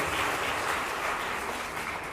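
Audience applause for Transportation Security Administration staff at an airport announcement event for San Antonio International Airport: a steady, dense wash of clapping that holds evenly throughout, fading slightly at the end.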